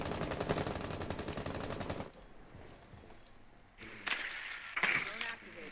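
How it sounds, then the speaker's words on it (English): Rapid automatic gunfire from the Jaeger in a competitive Rainbow Six Siege match, a fast rattling burst for about two seconds, followed by quieter game ambience and a couple of sharper cracking impacts later. "There was some gunfire there. Shot from the Jaeger, I believe."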